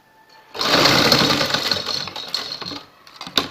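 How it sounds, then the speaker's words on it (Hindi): A sewing machine stitching a folded strip of fabric starts suddenly and runs in a loud, close whir for about two seconds, then slows and stops with a few final clicks. "फोल्ड करके इसकी सिलाई लगाएंगे इस तरीके से"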